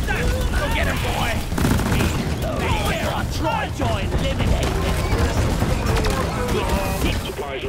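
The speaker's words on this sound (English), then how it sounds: "Sentry gun! Go get him, boy!" Rapid automatic fire from a deployed sentry gun in the sci-fi mining game Deep Rock Galactic, a dense continuous rattle of shots with game effects layered over it, loud and close, with players talking over it.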